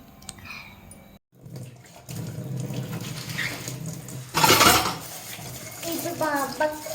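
Tap water runs into a sink while hands are washed at home after a meal, a brief louder gush standing out amid clattering and background household noise, with people talking nearby.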